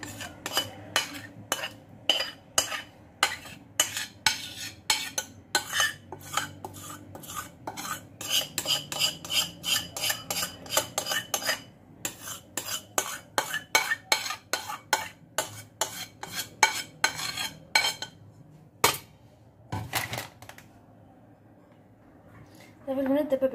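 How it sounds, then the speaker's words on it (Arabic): A spoon pressing and spreading a first layer of biscuit crumbs in a round cheesecake ring, rapid close clinks and scrapes of metal against the dish repeating throughout, with a brief quiet gap near the end. "غادي نفرغ فيه البسكوي كطبقة اولى. صافي وغنحاول نبسطها."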